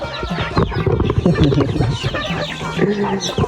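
Striped chickens on a rural Lao farm cluck repeatedly in close, busy bursts, several birds overlapping in an uneven rhythm, loud and near, with a voice speaking faintly underneath.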